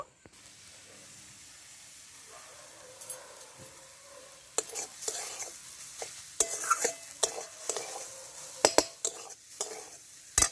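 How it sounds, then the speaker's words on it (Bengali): Carrots with chili flakes and toasted ground cumin and coriander are stirred in a pan, a soft sizzle under repeated scraping clinks of a utensil against the metal that grow busier toward the end. "এবারে গাজরের সাথে সব কিছুকে আমি ভালো করে নাড়াচাড়া করে নেব"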